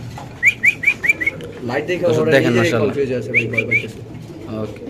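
Large pigeons coo and chirp in short repeated bursts at a pigeon sale, with a low steady hum and overlapping voices and handling noise through the middle.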